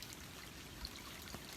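A creek along the Appalachian Trail trickles and flows steadily, a soft, even wash of running water with no voices over it.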